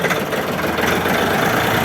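A Shifeng 244 mini tractor idles close by, its engine giving a steady, loud low rumble with constant vibration and no pauses.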